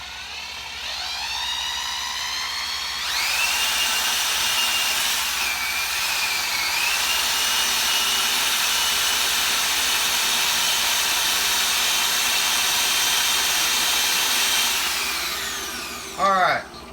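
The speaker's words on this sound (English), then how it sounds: "count how many seconds you think it's taking me to get this drill to get it up to speed" A power drill spins up with a rising whine, holds a loud, steady high-pitched drone for about twelve seconds, then winds down. A short burst follows at the end.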